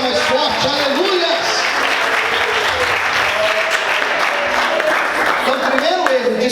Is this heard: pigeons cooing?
no